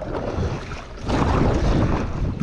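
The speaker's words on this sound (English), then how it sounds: "Choppy water" Wind-driven choppy water slaps and rushes around a wide paddleboard out fishing, a steady broadband wash with blustery wind buffeting the microphone, growing louder and rougher partway through.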